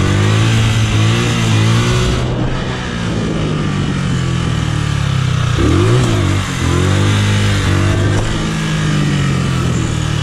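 Motorcycle engine on a muddy training trail revving loudly and close, with repeated throttle blips rising and falling over a steady idle, no talk.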